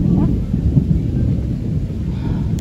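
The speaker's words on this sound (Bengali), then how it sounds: "হালকা বৃষ্টি বৃষ্টি পড়ছে, ভীষণ মেঘ করছে, মানে মেঘ ডাকছে।" Low, rolling thunder rumbles steadily through light rain, filling the whole stretch with a dense, continuous boom that swells slightly near the start and stays loud throughout.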